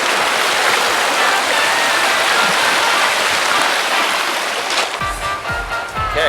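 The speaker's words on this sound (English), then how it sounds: "Just enjoy the noise and the flow of the water." Steady, loud rushing of a stream flowing over rocks nearby on a beach, continuous throughout, with a few faint bumps and handling noises near the end.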